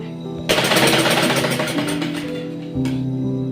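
Sewing machine stitching elastic into a baby girl's pajama, a rapid steady mechanical rattle starting abruptly, running about two seconds, pausing briefly and resuming.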